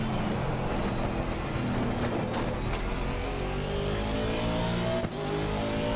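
A Volvo S60R gasoline engine in the driving game BeamNG, lapping the Nordschleife, revs hard and continuously, its pitch climbing through the gears and staying loud and close throughout.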